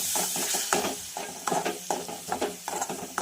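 Spices with ginger-garlic paste and a splash of water sauté in oil for a kurma, a spatula scraping the pan in regular strokes over a soft sizzle.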